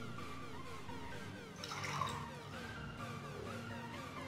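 Water poured out of a small container from a homemade water overflow alarm into a glass, a steady splashing trickle that swells briefly midway, close by, with no talking.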